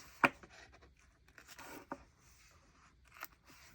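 Scissors make one sharp, close snip through a paper paw print in a bullet journal, followed by a few softer rustles and a faint cut near the end in a quiet room.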